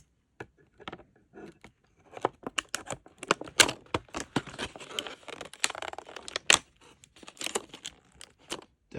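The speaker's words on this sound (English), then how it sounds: "Let's get the scissors in there a bit more." Kitchen scissors snip and crunch through hard plastic packaging in a rapid run of close, sharp cuts and cracks, with no voices over the cutting.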